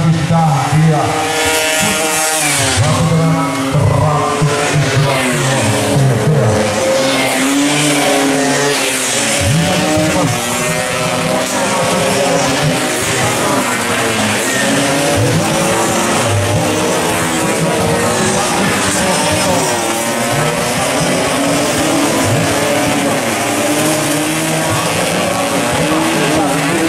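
Classic Vespa FFA scooters race at the Praja Road Race in Magelang in 2019, engines buzzing and revving loudly as bikes pass, with an excited commentator talking over the racket throughout.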